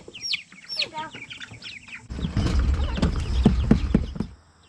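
Hens clucking and squawking up close as they are carried in a bucket, first sharp high calls alone, then shuffling, wing flaps and heavier movement noise joining the clucks.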